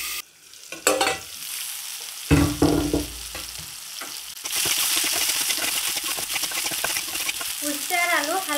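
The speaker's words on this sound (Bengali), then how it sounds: "উস্তে আর আলুটা হালকা একটু ভেজে নেব" Bitter gourd and potato fry lightly in a pan, a soft sizzle with clinks and scrapes of stirring, then a steadier, louder frying hiss near the end.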